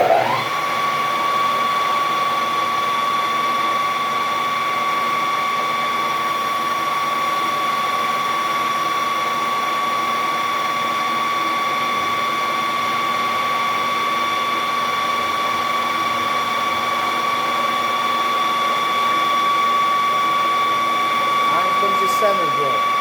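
A steady machining drone from a lathe drilling a 9/32-inch hole two inches deep into a knob blank for a CO2 laser table, with constant tonal whine holding evenly throughout, close and loud.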